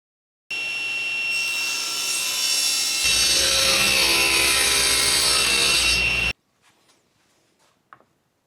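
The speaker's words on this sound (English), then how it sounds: "make a 90-degree cut with your table saw" A table saw cuts a piece of wood at 90 degrees, starting with a loud whine, biting into the board partway through with a heavier rasping tone, then stopping abruptly, followed by a few light clatters.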